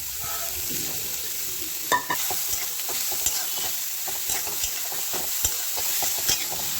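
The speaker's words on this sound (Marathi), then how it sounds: "2 चमचे तूप घालू, हलवा टाकायचा किसलेला।" Grated carrot for halwa fries in ghee as a spoon stirs and scrapes the pan, giving a soft steady sizzle broken by repeated close scraping strokes.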